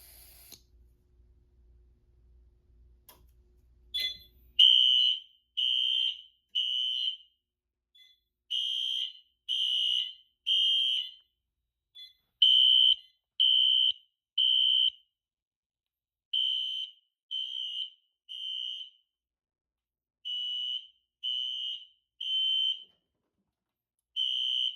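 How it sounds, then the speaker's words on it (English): An FCI FC-73 fire alarm panel, triggered by a smoke detector, sounds a loud, high-pitched electronic tone in repeated short bursts, beeping in groups with brief pauses between them. "let's begin with the fire alarm portion of the system by activating the smoke detector"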